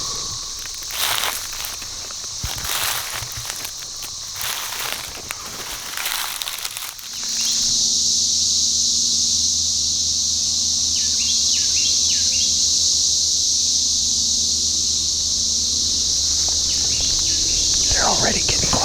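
Loud, steady insect drone of cicadas in late-season turkey hunting country, a constant high buzz that swells in after footsteps and rustling and then holds without a break to the end, with faint bird calls mixed in.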